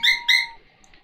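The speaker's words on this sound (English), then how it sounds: "we're gonna keep going a little bit longer because of this screamy bird" A screeching bird in a Switch video game lets out two sharp, piercing cries in quick succession, then fades to a faint trailing tone.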